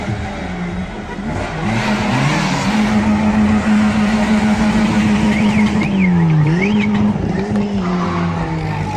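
Rally cars racing at an event in Arboleas, Almeria, loud and close, with engines droning and rising in pitch as they pass, tyres squealing and skidding, and a continuous motor roar over the whole stretch.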